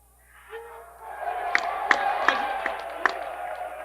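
A large crowd cheering and roaring at the UFC 300 press conference, swelling from quiet to a steady loud roar with sharp shouts popping out on top.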